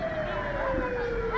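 An ambulance siren wails at a mobile clinic in Niger, a loud, continuous tone that slowly sweeps downward, close and dominant throughout.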